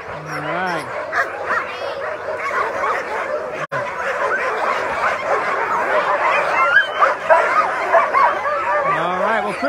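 A crowd of sled dogs at the Iditarod start barks, yips and whines excitedly and nonstop, close and loud, while people talk underneath.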